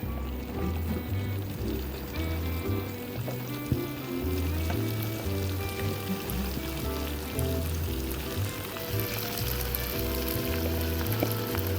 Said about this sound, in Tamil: 1 ஹவர் கழிச்சு இதை நான் வந்து டீப் ஃப்ரை பண்ணிக்கிறேன்